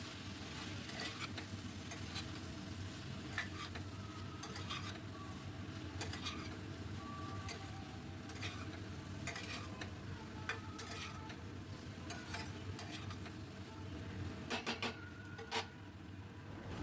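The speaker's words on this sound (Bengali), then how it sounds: "খুব ভালো করে কষাবো।" Spices sizzle and fry in a pan over a high gas flame for a papaya and potato curry, stirred steadily with a utensil scraping and ticking against the metal throughout, with no voices.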